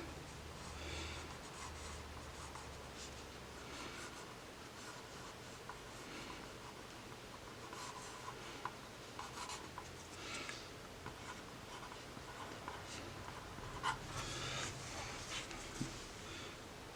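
A pen writing a signature on the base of a finished cherry wood bowl, faint scratchy strokes and small ticks under a low background hum, quiet and close.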